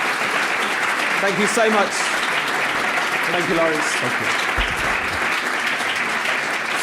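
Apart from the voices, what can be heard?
rapturous applause at a ceremony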